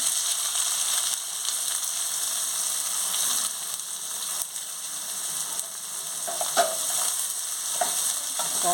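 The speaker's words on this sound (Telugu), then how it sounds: "వేసేసుకోవాలి ఆనియన్స్ పచ్చిమిర్చి కూడా వేసేసుకోవాలి" Onions and green chillies frying with whole garam masala spices in a pan for mushroom capsicum fried rice, a constant hissing sizzle with a few soft stirring scrapes, close and steady.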